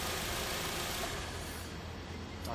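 A car engine runs steadily just after being started, a continuous low idling drone held at an even level throughout.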